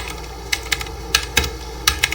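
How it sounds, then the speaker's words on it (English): Close, crisp keystrokes on a computer keyboard as networking configuration commands are entered, a handful of separate irregular taps over a steady background hum, with no talking. "We are going to type in"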